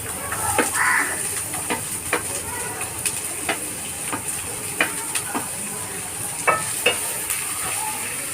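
Onions fry in a pan for upma with a steady close sizzle, punctuated by irregular clicks and scrapes of stirring throughout.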